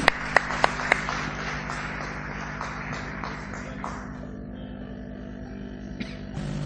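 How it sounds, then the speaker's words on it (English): An audience at a textile congress in Bangkok applauds visiting dignitaries with steady clapping in a large hall over a low mains hum, and the clapping thins out toward the end. "let us welcome our esteemed dignitaries and guests with a huge round of applause"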